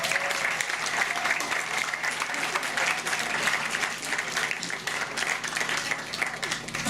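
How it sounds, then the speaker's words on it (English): Guests at a wedding reception applauding, a continuous dense round of clapping from a whole room that holds steady throughout. "I think you should all give yourself a clap."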